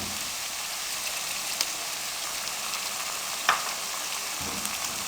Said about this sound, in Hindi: लो फ्लेम पे इन तमाम चीज़ों को भून लें।